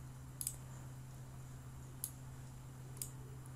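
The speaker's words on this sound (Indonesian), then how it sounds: "Menekan enter." Three crisp, quiet clicks of a key being pressed on a keyboard are spaced irregularly over a steady low electrical hum, with no voices.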